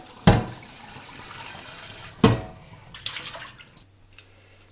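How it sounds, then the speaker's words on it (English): Tap water splashes while a pan is rinsed clean after cooking chicken for stock, with two sharp bursts of running water and softer trickling and dripping between them, close by with no talk. "When you're done with your chicken, you're just gonna rinse your pan and clean it before using it again."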